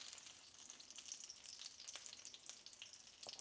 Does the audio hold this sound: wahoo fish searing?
yes